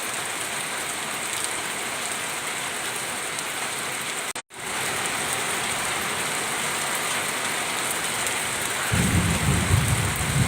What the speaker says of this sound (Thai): มีแต่ สายฝนลงมา